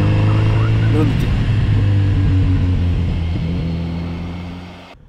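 Kawasaki Z900RS motorcycle exhaust while riding, a steady loud engine drone with a gravelly low rumble and a slight rise in pitch, continuous and close before fading out at the end.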